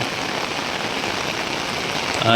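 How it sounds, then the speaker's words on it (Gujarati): Heavy unseasonal downpour pounding steadily on a village in Mahisagar, a dense continuous hiss of rain close by with no break, swelling slightly at the very end. "દેખી શકાય છે તમને વરસાદ એકદમ જોરદાર પર જોરદાર પડી રહ્યો છે"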